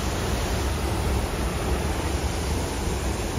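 Okere waterfall in Rotorua, New Zealand, gives a steady, dense rushing roar of falling water, close and unbroken throughout.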